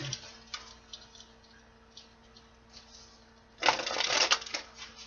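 Tarot cards being shuffled, with faint soft riffles early on and then a louder, dense burst of card shuffling near the end, close and alone with no talk.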